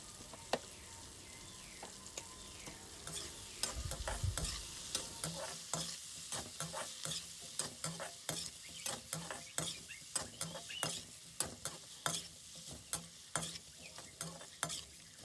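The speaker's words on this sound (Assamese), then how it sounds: "নিমখ আৰু হালধি দিয়াৰ পাছত মাংসখিনি অলপ টাইম ভাজিব" Meat fries in a pan with salt and turmeric, a quiet sizzle under regular clicking taps and scrapes of a spatula stirring against the pan, close by and with no talking.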